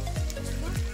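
Oil sizzles in a pan as potatoes are sautéed for a chicken curry, a steady close frying hiss with a voice talking over it.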